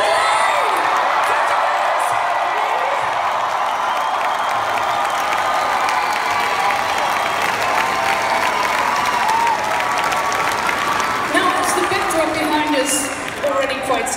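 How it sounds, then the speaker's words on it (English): Large concert crowd at a show in Mexico, a loud, sustained roar of applause, cheering and whoops filling the whole stretch without letting up. "maybe you can give them a very, very, very big applause and a loud roar"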